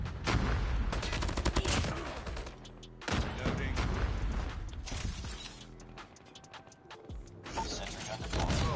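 Rapid automatic gunfire from a sentry gun in Call of Duty Mobile, loud and dense bursts rattling almost continuously with brief gaps, mixed with other weapon fire and game effects while players talk over it.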